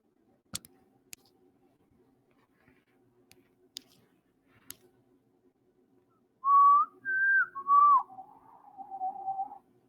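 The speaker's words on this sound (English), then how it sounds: "Can't whistle that well." A person whistles a short wavering tune alone after a few scattered clicks and ticks, close and clear in a quiet room.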